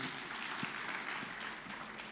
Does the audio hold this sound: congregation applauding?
yes